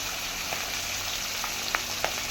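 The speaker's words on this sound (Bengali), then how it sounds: "কমায় মাছটা ভাজতে হবে" Rohu fish frying gently in a pan over low heat, a steady soft sizzle with a few brief pops and crackles rising above it.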